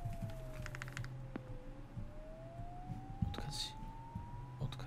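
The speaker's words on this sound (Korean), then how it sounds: "사이렌 들리죠 여러분들?" A police siren sounds in the Crimson Snow horror video game, a faint wailing tone that sweeps slowly down and then climbs back up, with soft scattered noises around it.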